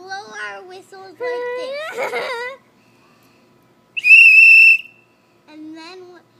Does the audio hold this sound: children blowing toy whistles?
yes